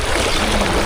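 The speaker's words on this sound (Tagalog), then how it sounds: "Malakas ang agos." A strong river current rushes in a steady broadband wash, close and continuous, with no voices over it.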